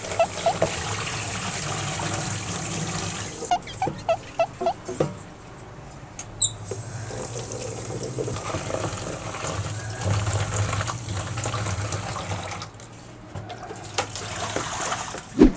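Water runs and splashes while an item from a reptile tank is rinsed by hand, a close trickling and gushing flow with scattered clunks and taps, pausing briefly midway.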